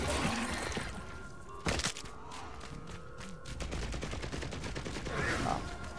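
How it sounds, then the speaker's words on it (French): Machine gun turret firing in a video game, a dense run of rapid shots with a sharp burst partway through, fairly faint against a game background, with no talk. "donc ça c'est une tourelle mitrailleuse"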